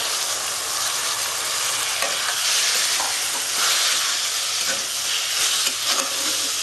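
Onion and capsicum fry in a pan with a loud, continuous hissing sizzle, and stirring adds a few scraping clacks throughout. No voices are heard.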